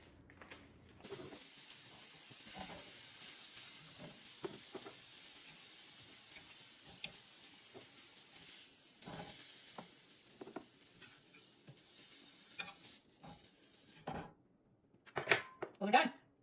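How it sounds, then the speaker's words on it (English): Breakfast sausage browns in a hot pan with a steady, soft sizzling hiss, broken by occasional scrapes and clinks of stirring; near the end the pan goes quiet and louder clattering follows. "I'm gonna cook all this up, get it browned up."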